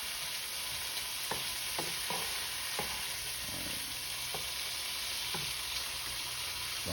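Shrimp sizzling and frying in a pan for shrimp pasta, a steady dense hiss with a few soft clicks and taps from stirring, close and continuous with no talking.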